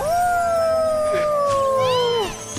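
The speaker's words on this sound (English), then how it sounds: "Howling at the kiss from the chocobo guy." Nanaki, the canine companion in Final Fantasy VII Rebirth, lets out one long, loud, drawn-out howl that slides slowly downward in pitch, then ends in a brief yelp.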